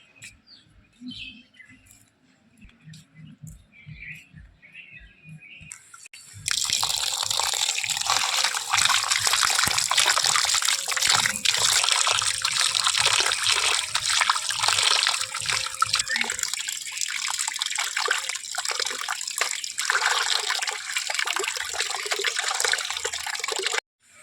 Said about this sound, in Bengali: এবার মাংসটা ধুয়ে আসি।